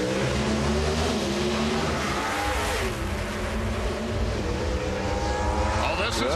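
Pro Stock drag racing cars roar at full throttle as they launch down the track, a loud sustained engine blare throughout with rising pitch sweeps near the end and some background voice.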